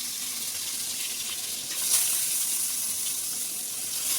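Fish pieces fry in a hot oiled pan for a Bengali fish and eggplant curry, a steady close crackling sizzle that swells briefly midway, with no talking.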